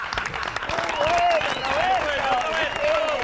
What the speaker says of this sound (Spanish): No sé si son aplausos del antisemitismo, pero igual.